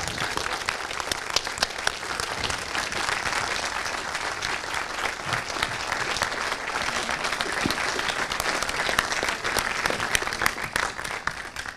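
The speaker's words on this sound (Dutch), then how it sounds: "Geef hem een ontzettend hard applaus." Sustained, dense applause from a large audience greeting film director Paul Verhoeven on stage, steady and loud for the full stretch with no talking over it.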